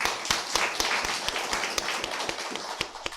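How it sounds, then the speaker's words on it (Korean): Church congregation clapping to welcome a visiting guest during a morning worship service, a thin round of individual claps with sharp separate strikes, moderately near, from a small group. "오늘 우리 유은난 집사님 뵈러 오신 우리 자매님 박수로 우리 환영하겠습니다"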